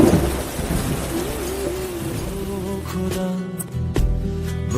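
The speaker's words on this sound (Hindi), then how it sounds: "देखो बादल भी गरजे।" Heavy rain pours steadily while thunder rumbles loud and close, a deep roll swelling through the downpour with sharper crackles near the end.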